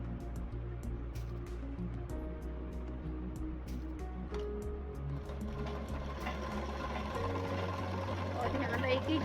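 A sewing machine stitches a tassel piece onto the corner of a blouse, its motor running in a steady, close mechanical hum that shifts pitch a few times, under a voice speaking.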